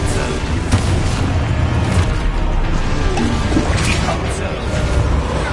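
Spell blasts in Hogwarts Legacy, a dense run of loud booming crashes and whooshes as magic strikes in combat, heavy and continuous with a voice calling out amid the impacts.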